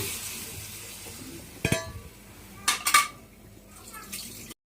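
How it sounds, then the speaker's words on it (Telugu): Tomatoes frying in oil in a pan for a ridge gourd chutney, a soft low sizzle broken by a few sharp clatters of a metal spoon against the pan, then a brief silence. "ఇప్పుడు టమాటాలు వేసి వేయించేసుకుందామండి"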